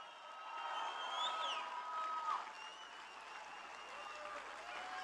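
A large rally crowd for a Wisconsin Supreme Court candidate claps and cheers in a sustained wave, with whoops and whistles rising above the steady applause and a distant, roomy sound.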